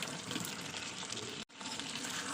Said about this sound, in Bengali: এবার আমি এটাকে ভালো করে কষিয়ে নেব